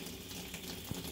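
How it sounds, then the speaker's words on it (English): Water drains steadily from an aqua bag in a short, continuous rushing and trickling wash, with a small bump partway through. "Of the water draining?"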